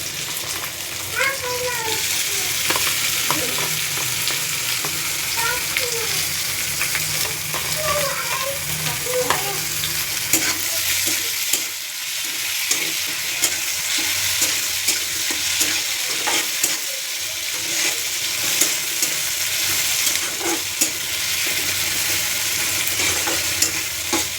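Garlic sautéing with onions in a pan, a steady close frying sizzle with repeated stirring scrapes, a voice speaking briefly over it early on and then the cooking alone.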